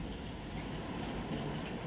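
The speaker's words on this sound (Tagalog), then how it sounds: "Malakas na yung hangin guys." Strong wind rushes and buffets the microphone in a continuous, fairly faint roar with no distinct gusts or other sounds over it.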